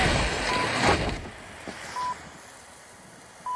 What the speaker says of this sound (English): is the beeping gonna go away?